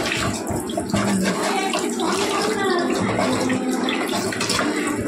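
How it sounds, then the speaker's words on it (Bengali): Rohu fish being washed by hand, rubbed and sloshed in water, gives a busy splashing and swishing close by, continuous throughout with faint background voices. "কচলে কচলে এখন মাছগুলোকে ধোয়া"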